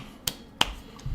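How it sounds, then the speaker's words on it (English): Two sharp, crisp claps from a man clapping for himself, spaced about a third of a second apart, loud and close, followed by a soft low rustle, with no talking. "I'm doing my own clapping myself"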